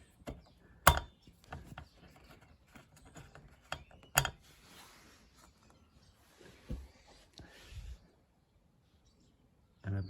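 Quiet clicks, ratcheting and small metallic taps come up close as bolts are worked out of a motorcycle fairing, with scattered sharper knocks and a few pauses.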